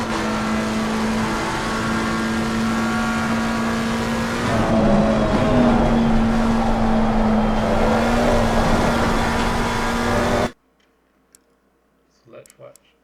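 A race car engine holds full throttle in a racing video game on the Hungaroring circuit, a loud steady drone with a strong tonal whine for about ten seconds before cutting off abruptly to near silence with faint clicks.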